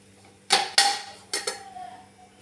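A lid goes onto a pan of egg appam batter with a couple of sharp metallic clanks close by, then a lighter clink and a soft ringing fade.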